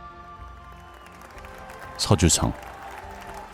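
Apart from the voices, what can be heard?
crowd cheering and applauding, audio drama effect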